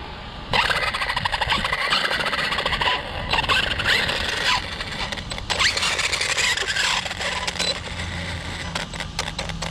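Arrma Outcast 4S V2 RC truck at a skatepark, its drivetrain gears whining and squealing steadily for several seconds with shifting pitch as throttle varies, close and fairly loud with scraping bursts, no talk.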